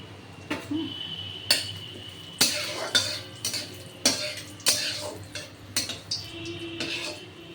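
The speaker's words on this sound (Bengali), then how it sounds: "দেখছেন এবার আমি দেবো এর মধ্যে শুকনো লঙ্কা আর তেজপাতা" Dried red chillies and bay leaves dropped into a pan for Bengali chana dal, giving a run of sharp clinks and scraping stirs against the metal, spaced irregularly, over a faint background hum.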